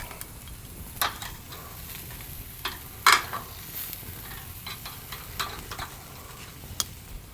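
Picanha steak searing over open flame on a Slow 'N Sear travel kettle grill, a close steady sizzle and crackle with scattered sharp pops and spits.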